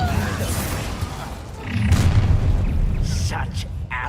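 A fiery spell bursts with a deep boom in the video game Hogwarts Legacy, a heavy rumbling whoosh that swells midway and lingers under the game's other sounds.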